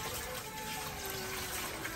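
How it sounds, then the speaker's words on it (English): Tap water runs steadily over rice being rinsed in a sink, a continuous close gush with no talking. "You have to rinse it until the water is clear, okay?"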